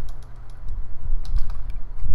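Rapid keystrokes on a computer keyboard during a Tekkit Minecraft session, a steady run of clicky taps over a low hum, close and fairly loud, with no talking.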